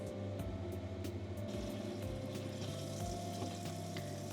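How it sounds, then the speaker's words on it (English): Pork belly and green beans stir-fry with shrimp paste in a pan, a soft, steady sizzle with low hum and a few faint stirring knocks, fairly quiet, with no talking. "then we stir fry it until the green bean is cooked and the pork belly is cooked perfectly"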